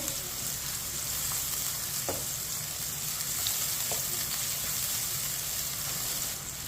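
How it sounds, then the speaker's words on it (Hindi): Finely chopped onion fries in oil heated over a medium flame in a pan for dal palak, with a steady close sizzle running throughout and a few faint spoon scrapes as it is stirred. "प्याज को मिक्स करके इसे हल्का सा ब्राउन कर लेंगे"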